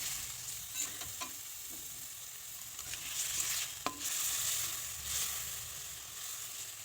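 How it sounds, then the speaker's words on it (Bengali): Taro leaves frying with spices make a continuous, fairly quiet sizzle with occasional soft spatula scrapes and one sharper knock partway through; close, no talking. "মশলার সঙ্গে কচু শাকগুলোকে নেড়ে চেড়ে একদম ভালোভাবে মিশিয়ে নেব।"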